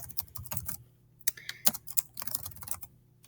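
Typing on a computer keyboard in an online class chat, quick irregular clusters of close key clicks with brief pauses, no voices.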